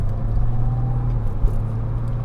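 Engine note of an air-cooled Porsche 993 Cabriolet downshifting in manual mode, heard as a steady, close, low rumble with a brief swell in revs.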